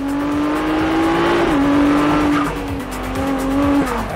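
A Ferrari 296 GTB turbo hybrid drives with a loud, close, sustained engine note, its pitch climbing steadily then dropping at gear shifts, with slight tire noise beneath.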